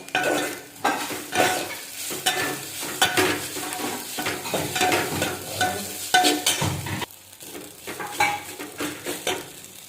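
A spoon scrapes and stirs red chili powder through a sizzling pan of tempered kurdai, continuous close clatter and rasping strokes over a steady frying hiss.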